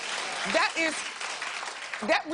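Scattered studio audience applause on a TV talk show rumbles beneath a talking voice.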